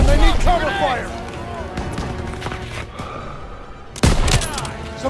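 Bursts of gunfire crack through a Call of Duty WWII battle, loud sharp shots opening the scene and returning near the end, with shouted voices over the fight.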